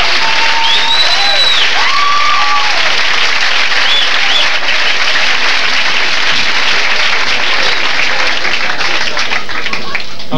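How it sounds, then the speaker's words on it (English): A large comedy competition audience applauds steadily and loudly, the clapping sustained throughout, with a few bright whistles rising over it early on. "Let's give them a big applause."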